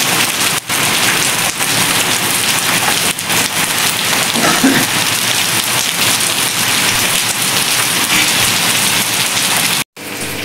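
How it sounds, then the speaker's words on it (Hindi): Heavy, steady rain pours down in a dense, loud hiss that stays constant throughout and briefly cuts out near the end. "हल्की हल्की बारिश थोड़ी ज़्यादा ज़्यादा होने शुरू होने वाली है।"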